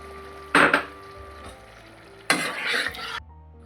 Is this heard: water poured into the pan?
yes